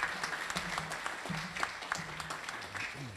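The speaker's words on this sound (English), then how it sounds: "So please give a round of applause for Conor." A crowd at a book launch applauds a man coming on stage, a lively round of clapping with distinct individual claps and a few voices mixed in.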